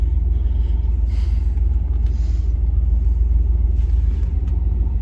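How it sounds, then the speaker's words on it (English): A Jeep Grand Cherokee WJ engine idles steadily up close, a deep continuous low rumble with no talking over it. "Oh, listen to that motor. Sounds amazing."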